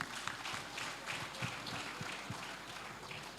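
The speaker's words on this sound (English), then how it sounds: "I think they deserve a round of applause" A conference audience at a Lagos safety conference gives a round of applause, faint, dense and steady clapping heard from a distance for the whole stretch.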